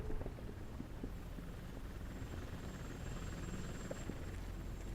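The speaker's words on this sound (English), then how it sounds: "That's a TV helicopter." Faint, steady rotor drone of a TV news helicopter in the video game Robocop Rogue City, continuous and distant under low rumbling background noise.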